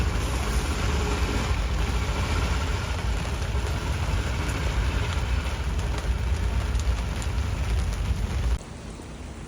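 Heavy rain pours down at a campsite, a dense, steady roar of drops drumming close by without a break, before the sound cuts abruptly to a quieter wash near the end.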